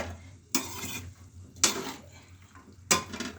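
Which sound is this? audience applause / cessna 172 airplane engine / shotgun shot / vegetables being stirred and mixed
vegetables being stirred and mixed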